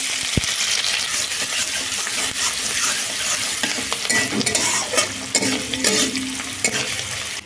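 Chopped onion with whole dried chillies and five-spice seeds frying in hot oil in a wok, a loud steady sizzle with stirring scrapes and clinks throughout, no voices.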